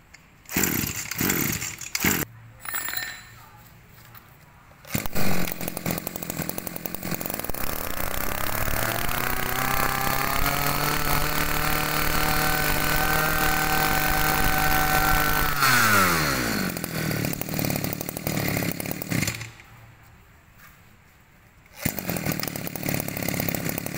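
A used Japanese brush cutter, a Rapid model, runs on test: a loud, steady two-stroke engine drone that holds at high revs for about ten seconds, then drops away, with shorter bursts of running before and after.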